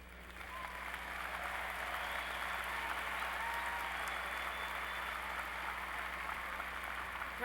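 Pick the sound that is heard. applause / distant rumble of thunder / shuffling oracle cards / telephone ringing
applause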